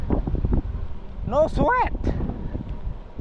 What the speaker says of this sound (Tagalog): Mahangin pa, lakas pa ng hangin.